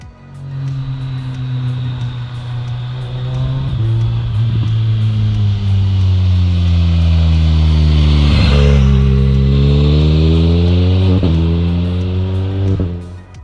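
A BMW K 1300 S motorcycle engine downshifting, with close, loud engine tone that rises in repeated throttle blips between gear changes, pitch stepping up and down over several seconds.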